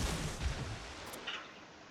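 Torpedoes launch from a warship in a naval battle video game, making a brief muffled boom and thump, followed by a short whooshing hiss as the sound fades.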